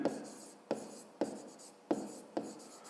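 Handwriting on paper during a fifth-grade math exercise produces soft, close scratchy strokes, about five short bursts in a steady rhythm, quiet and alone.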